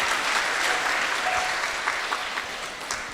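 Audience applause after a devotional class, a dense, steady clapping from a room full of people that carries at an even level for about three seconds, with no talking over it.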